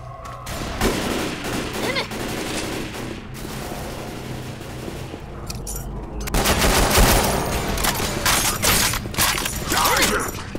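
Gunfire in the video game Left 4 Dead 2 on the Dead Air campaign, loud rapid bursts of shooting that swell into a denser volley partway through, with no speech.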